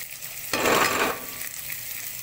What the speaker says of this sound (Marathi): कांदा आपल्याला लालसर भाजून घ्यायचा आहे